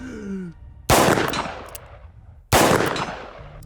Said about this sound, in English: first thing we're gonna do is fire at 100 yards and see if we can make shot